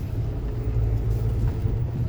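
A Geely Coolray crossover climbs a hill under acceleration, its engine giving a steady low rumble heard from inside the cabin, continuous and fairly loud.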